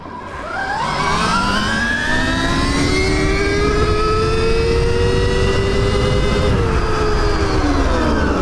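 A Stark Varg EX electric dirt bike accelerates hard on gravel, its rising electric motor whine climbing in pitch and then holding steady, loud and close throughout, with the rush of tires and wind beneath.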